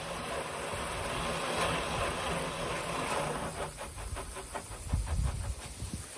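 Broad hissing spray of water rinsing fertilizer and lime residue off a tractor spreader, steady and close, then giving way to a rhythmic low engine rumble.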